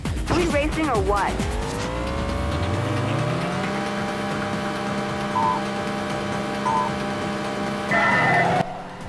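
Racing car engine in the video game Midnight Club, a Piranha series car, whining and rising in pitch at the start, then holding a steady sustained drone with brief tonal beeps and a tire squeal near the end.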